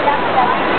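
Taytay Falls waterfall in Majayjay, Laguna, Philippines, a loud, steady rush of falling water that fills the whole moment with dense, unbroken roar.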